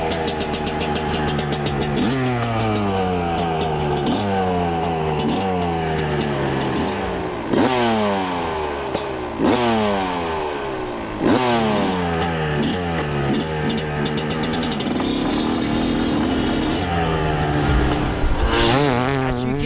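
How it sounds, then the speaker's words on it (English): A 2006 Suzuki RM250 two-stroke motorcycle engine revs hard and loud up close, repeatedly blipping and climbing in pitch with crackling, ringing bursts between throttle pulls. "It's time to take this 2006 RM250 for its first ever ride."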